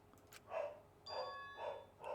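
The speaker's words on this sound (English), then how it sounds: "I apologize for my dog." A dog barks three or four times in quick succession, moderately loud and close, with a faint steady tone underneath and no talking.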